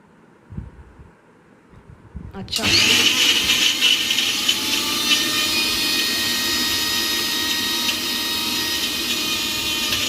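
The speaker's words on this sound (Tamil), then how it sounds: "ஸோ இது எல்லாத்தையும் ஆட் பண்ணதுக்கப்புறம் நம்ம ஃபைன் பேஸ்ட்டாக அரைக்கணும்." A kitchen mixer grinder whirs into action after a quiet start, grinding cumin, pepper and fenugreek into a fine paste with a loud, steady roar that holds to the end.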